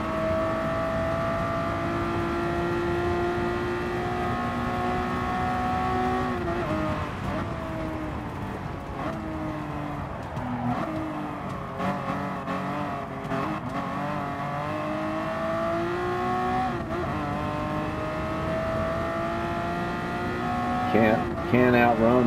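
A 1966 Ford Mark 1 race car engine drones loudly through a racing game, its pitch climbing and dropping as it revs through gear changes, with a brief tire squeal near the end.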